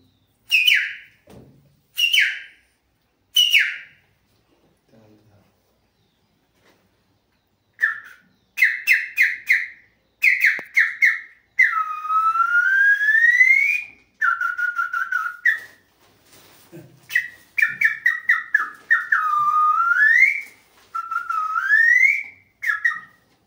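A shrill conch-style whistle used as a lung breathing exercise is blown in repeated bursts, first short sharp toots, then longer warbling blasts rising and falling in pitch, loud and close, with pauses between.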